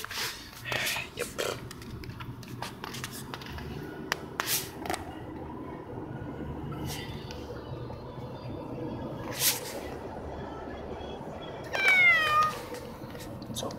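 A cat in a car on the way to the vet gives a few short meows over a low road rumble, ending in a louder drawn-out cry, while a person talks softly nearby.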